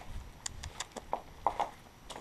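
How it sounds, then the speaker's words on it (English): A horse's hooves clop faintly and irregularly on hard ground, a scattered series of soft, close knocks with no talking over them. "Hey guys, there's the horse."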